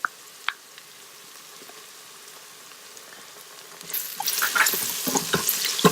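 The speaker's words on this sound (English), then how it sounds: "Cook the ginger garlic paste till the raw smell goes away" Onions and ginger garlic paste frying in an Instant Pot start as a quiet simmer with a couple of sharp clicks. After a few seconds they rise into louder sizzling and stirring.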